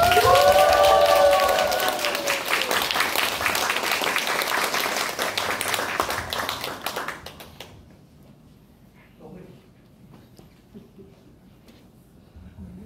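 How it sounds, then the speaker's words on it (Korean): Loud applause from a church audience welcoming a guest health lecturer, dense clapping that starts strong with a brief tonal sound at the very start, then fades and thins out into scattered claps and near silence. "큰 박수로 함께 하시기 바랍니다."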